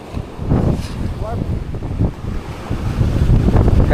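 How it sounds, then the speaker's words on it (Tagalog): Ocean waves wash loudly at a fishport pier in a strong monsoon wind, with heavy wind buffeting the microphone and low surf rumbling continuously. "yung alon."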